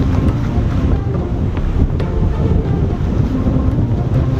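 Strong wind buffets the microphone outdoors in the Jamaican mountains at a campsite, a steady loud roar and rumble throughout with no pauses and no voices.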